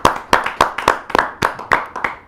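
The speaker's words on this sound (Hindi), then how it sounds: "एक बार पुनः जोरदार ताली के साथ हम स्वागत करें सभी का।" At a kavi sammelan, an audience welcomes the poets with about ten sharp, loud claps in a steady rhythm.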